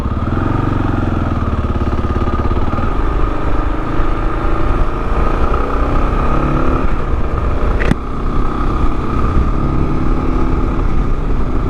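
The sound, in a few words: 2022 Kawasaki KLR650 motorcycle riding on a highway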